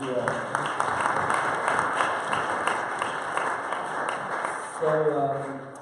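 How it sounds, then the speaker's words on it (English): Interview audience applauds, a steady broad wash of clapping running through the whole stretch, with speech-like tones and talk surfacing over it near the start and again toward the end. "I think that deserves a hand of applause."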